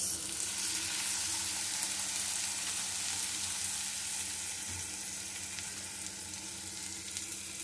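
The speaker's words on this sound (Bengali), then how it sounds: "দিয়ে দেবো বড় 1 চামচ সয়া সস।" Steady, loud sizzling hiss of Schezwan fried rice frying in a hot pan as soy sauce goes in, continuous and close with no voices.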